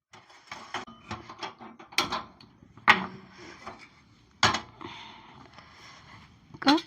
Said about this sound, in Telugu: ఇప్పుడు పొయ్యి ముట్టిస్తాం.